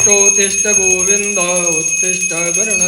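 A bell rings steadily and loudly, its bright tone sustained with rhythmic swells, with no talking.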